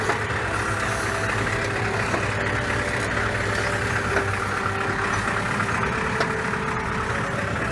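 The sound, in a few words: tractor engine planting pistachio seedlings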